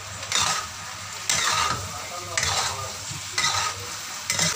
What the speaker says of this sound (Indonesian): Lalu kita larutkan air dengan tepung maizena. Kita aduk,